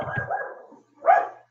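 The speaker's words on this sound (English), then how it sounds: "we got somebody's dog in the background." Someone's dog barks in the background, two brief muffled woofs separated by a short pause, fairly faint and distant, with no talking over them.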